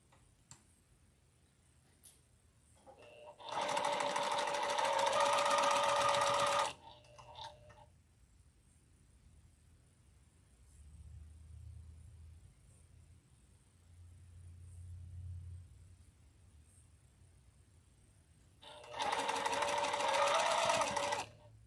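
A home sewing machine pieces two fabric pieces together in two bursts of rapid, even stitching, a short run and then another after a long pause, with quiet low murmurs in the gap.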